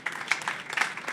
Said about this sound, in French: je crois qu'on peut déjà l'applaudir